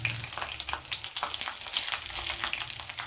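Red chilli powder and turmeric fry in hot oil with garlic for an onion-leaf bhaji, giving a close, steady sizzle with light stirring scrapes throughout and no speech.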